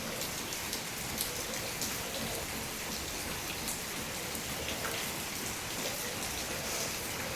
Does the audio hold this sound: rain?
yes